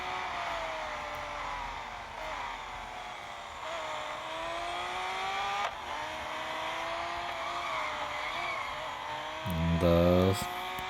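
Several Aston Martin race cars roar together in a racing video game on a mountain stage, a sustained engine drone with rising revs and a louder burst near the end.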